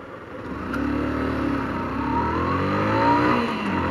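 A small 150 cc carbureted motorcycle engine revs steadily nearby, its pitch climbing and holding with a buzzing tone, heard alone with no talk.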